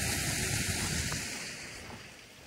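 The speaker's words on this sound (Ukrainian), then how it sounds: "тут річка шумить" A rushing river makes a steady broadband roar outdoors. The noise is fairly loud and continuous, then eases slightly toward the end, with no voices over it.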